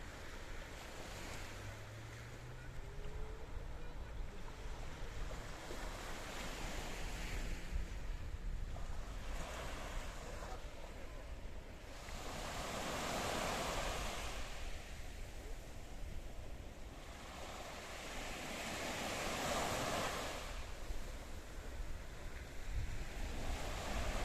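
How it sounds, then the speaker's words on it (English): Waves of the Mediterranean Sea washing onto a sandy beach cove near Paphos, Cyprus, rising and falling surges every few seconds with steady wind noise, moderately loud and heard without talking. "a look out across the blue Mediterranean Sea"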